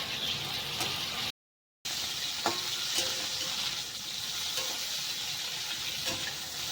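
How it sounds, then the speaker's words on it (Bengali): Cauliflower frying in a pan, a continuous broadband sizzle with occasional light stirring clicks, close and steady, broken by a short gap of silence. "ফুলকপিগুলো কিন্তু ভাজতে ভাজতে অনেক কমে গেছে আর একটুখানি লাল লাল করে ভেজে নিতে হবে"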